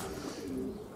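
Pigeons in breeding season coo steadily in a low, continuous murmur close by, with no other sounds standing out.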